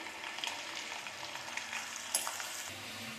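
Dried red chillies, green chillies and crushed garlic fry in a pan, giving a steady, fairly quiet sizzle with faint stirring scrapes and one brief sharper clink, heard alone without any talking.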